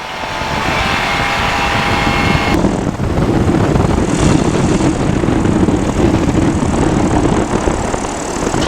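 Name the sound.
Sub 70 flexwing microlight aircraft landing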